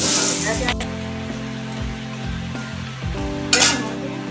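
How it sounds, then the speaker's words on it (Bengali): Potato and radish sizzle and crackle steadily in hot oil, with occasional stirring scrapes and a clink of utensils. "এবার আমি একে একে এই যে আমার আলু আর মূলোটা আমি একে একে ভেজে নেবো"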